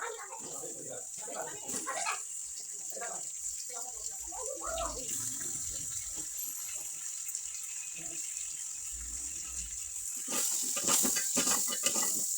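Chicken is rinsed under a running tap, with water splashing and gushing in uneven bursts near a sink, alongside background talking.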